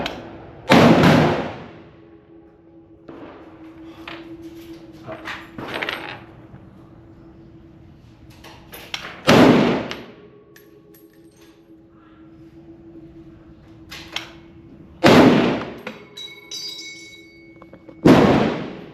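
A WWII M1 Garand rifle fires .308 rounds as sharp, loud single reports spaced several seconds apart, each followed by a ringing decay and faint clinks between shots.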